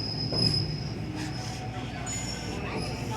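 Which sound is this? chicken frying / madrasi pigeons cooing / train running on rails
train running on rails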